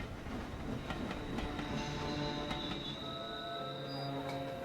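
A train rumbles along steadily with a continuous low roll, faint clicking from the wheels and thin high squeals rising above it, and no voices.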